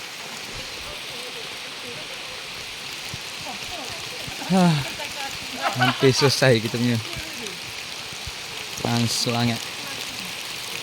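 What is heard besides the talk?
heavy rain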